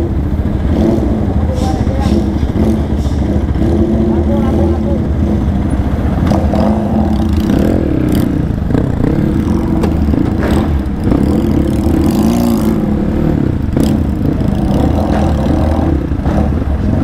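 A 450 cc motorcycle engine revs and rumbles steadily up close for the whole stretch, loud and continuous, with surges in pitch as it is throttled.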